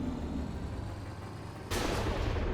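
Continuous booming, crackling roar of cannon fire in a Minecraft mod, with a sharp louder blast partway through as a building breaks, rumbling on to the end.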